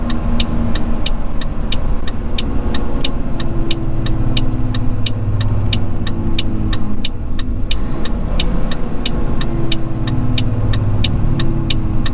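A loud diesel road train truck engine rumbles steadily while pulling away from a weighbridge outside Darwin, Australia, with a rapid regular ticking from an indicator running throughout.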